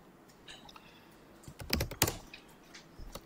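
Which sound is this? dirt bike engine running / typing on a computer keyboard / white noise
typing on a computer keyboard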